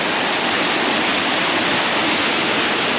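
Water pours down at Keralamkundu waterfall, a constant, loud broadband rush with no breaks and no voices over it.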